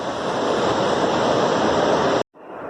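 Mutyala Dhara waterfall in Telangana, whose water plunges from about 700 feet, makes a loud, steady, close roar of falling water. The roar drops out sharply for a moment near the end and then resumes more faintly.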